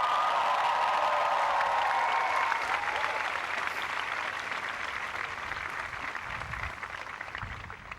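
Large commencement crowd at Dartmouth's class of 2011 graduation applauding in a big hall, a dense, steady wash of clapping sustained for the whole stretch, slowly easing and with some scattered cheers.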